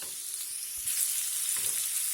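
Meat sautéing in a pan before tomatoes go in, a soft continuous sizzle with faint stirring scrapes near the middle and toward the end, close and fairly quiet with no talking.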